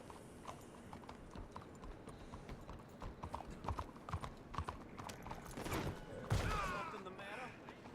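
Horse hooves clip-clopping in Red Dead Redemption 2, a quiet, steady rhythmic patter of many hoof strikes, with a louder scuffling burst near the end, heard faintly at a distance.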